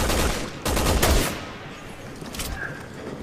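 Bursts of rapid gunfire in Resident Evil 6 on PS3, two dense volleys close together in the first half followed by a fainter burst, loud and near.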